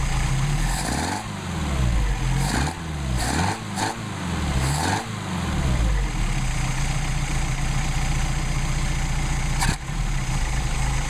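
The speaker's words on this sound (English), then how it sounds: "the idle will adjust a little bit by itself because, again, we didn't do any machine work on the throttle plates" A Mercedes 190SL engine with Solex carburetors idles steadily and loud, a low continuous rumble with a few brief revs and surges early on, then settling into an even idle.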